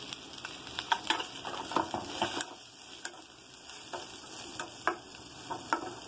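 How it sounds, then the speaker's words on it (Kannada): Capsicum and onion frying in a pan for chicken chilli, a soft steady sizzle with scattered clicks and taps of a spatula against the pan, no voices. "ಒಂದು ಸ್ವಲ್ಪ ಫ್ರೈ ಆಗಬೇಕು ರೀ ಇದು ಮೆತ್ತಗೆ ಆಗಬೇಕು ಕ್ಯಾಪ್ಸಿಕಂ ಮತ್ತೆ ಈರುಳ್ಳಿ"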